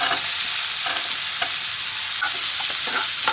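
Diced potatoes tossed with turmeric and salt fry in a hot pan, giving a steady close sizzle broken by occasional stirring scrapes and clinks, with no voices.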